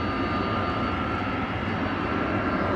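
Airbus A350 airliner taxiing at Amsterdam Schiphol, a continuous broad engine roar with a faint steady whine running through it, holding at an even level from start to finish.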